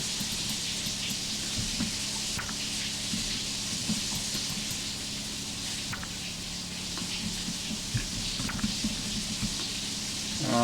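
Steady hiss of a shower running in a small indie video game, a constant, dense, spattering wash of water that fills the whole stretch without a break.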